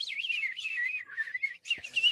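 A person whistles a continuous warbling, trilling imitation of spring meadow birdsong, close and fairly loud, with a short break before a final brighter burst.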